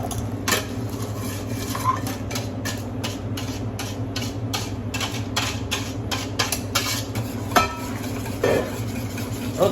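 Lemon curd stirred in a pot on the stove, with a quick irregular run of light clicks and scrapes from the utensil against the pan over a low steady hum, no talking.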